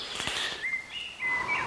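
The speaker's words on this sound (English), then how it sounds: "as the sun comes out, so the birds come out and start singing their songs again" Birds sing outdoors as the sun breaks through onto a clearing blue sky, with several thin high whistled notes in short phrases over a soft, steady background.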